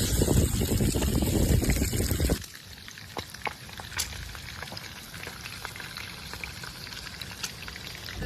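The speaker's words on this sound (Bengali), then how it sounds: "মাছ ভাজা পুরো কমপ্লিট" A loud, dense burst of frying dominates the first two seconds as pabda fish cooks in hot oil in a pan, then drops to a quieter bubbling sizzle scattered with small pops and crackles.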